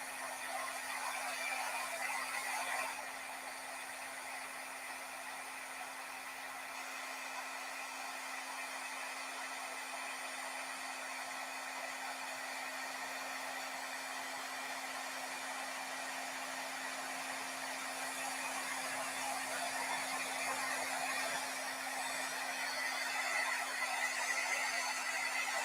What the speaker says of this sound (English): And you just sort of move your heat tool along.